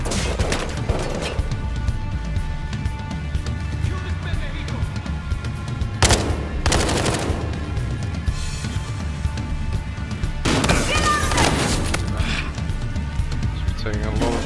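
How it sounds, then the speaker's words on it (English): Gunfire in Battlefield: Hardline on PS4: repeated shots and heavy booms crackle under continuous talking, with louder bursts of explosive fire partway through. "Taking a lot of gunfire."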